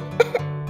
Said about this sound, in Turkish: neden öksürüyorsun?